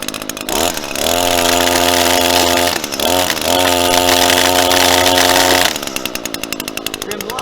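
An Echo SRM-225 string trimmer's small two-stroke engine runs loud and close on half choke, with a steady buzzing drone that dips briefly and then breaks into a rough, pulsing sputter at the end.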